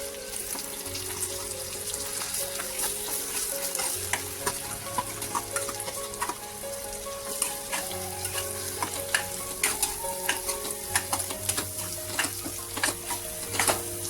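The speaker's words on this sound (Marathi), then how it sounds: "उरलेला मसाला मी घातलेला आहे तोही छान ह्या कारल्यांसोबत मी परतून घेते" Bitter gourd is fried with spice masala in oil, giving a steady close sizzle with repeated scraping clicks of a spoon stirring the pan and a faint low hum underneath.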